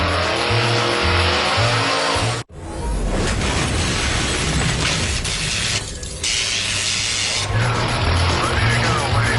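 A dragster roars loud and close with a dense engine blare, cut by a sudden brief drop, then continues with rattling, crashing and ratcheting mechanical sounds.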